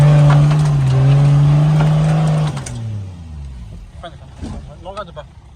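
A car engine revs hard and steadily for a couple of seconds in second gear during a driving lesson, then drops away. Quieter movement and faint voices follow.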